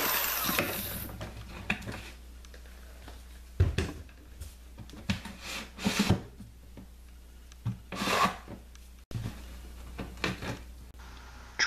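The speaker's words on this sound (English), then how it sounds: "Trim all the burrs from any of the manufacturing of this, or any of the cutting." Plastic auger tube for a fish feeder being trimmed of burrs, a steady close rubbing and scraping with intermittent louder rasping strokes.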